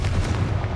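Confringo spell in Hogwarts Legacy goes off as a short, heavy blast, a loud low-pitched boom that rumbles briefly and fills the whole moment alone.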